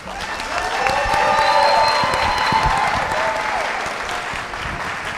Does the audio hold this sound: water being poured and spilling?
no